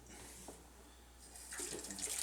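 Warm water poured onto seed wheat in a small jar, a soft trickling splash that grows a little louder toward the end, quiet and close, no talking.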